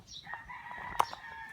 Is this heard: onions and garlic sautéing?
no